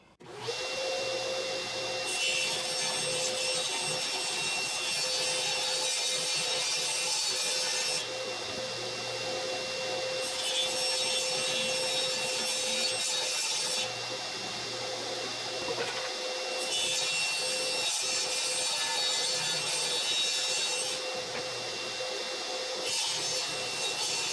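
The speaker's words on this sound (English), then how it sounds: "I'm going to cut this freehand on a table saw" A table saw cuts a piece of wood freehand with a loud, continuous whining roar, its pitch rising and dipping in waves as the blade bites in and eases off, alone with no talk.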